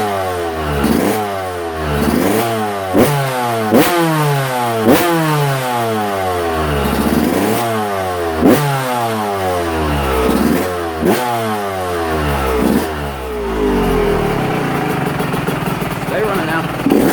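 A small engine runs and revs repeatedly with throttle blips, rising and falling in a steady rhythm of surges, loud and close, then settles toward idle near the end.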